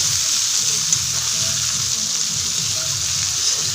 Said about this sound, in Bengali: পেঁয়াজটাকে লাল লাল করে ভেজে নিই।